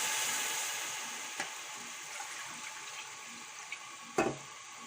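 Around 1.5 kilograms of water pours steadily into a pot of pre-soaked rice for aloo matar pulao. The wash of water is continuous and close, with a couple of small clinks and a louder knock near the end, and no talking.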